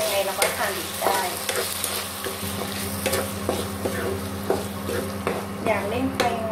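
A spicy stir-fry of stink beans and crispy pork sizzles loudly in a hot pan while a utensil scrapes and clatters against the metal in quick, repeated strokes.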